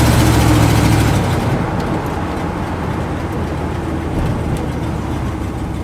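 A 1979 Dodge 100 pickup truck engine, its choke freshly repaired, runs with a steady, loud rumble. It is slightly heavier for the first second and a half, then settles into an even drone with no talking.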